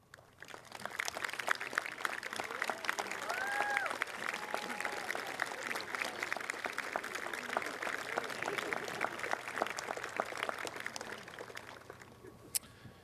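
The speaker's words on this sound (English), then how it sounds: "I would like them to stand and accept your round of applause" Graduation ceremony audience at Mountain View High School gives the standing teaching faculty a sustained round of applause, a broad even clatter of many hands with a few whistles and cheers rising over it before it thins out at the end.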